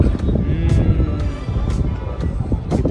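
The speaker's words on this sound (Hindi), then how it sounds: "ओ क्या हवा चल रही है गाइस" Strong wind roars and buffets across an open rooftop, steady and loud, with sharp gusty bursts that may be a flag flapping hard.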